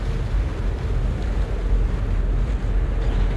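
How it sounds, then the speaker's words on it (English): Warship engines and propellers churn over crashing waves in the naval game World of Warships, a steady dense low rumble with a wash of sea noise and no speech. "You can hear the waves crashing. And you can hear the thum, thum, thum, thum of the props and the engines."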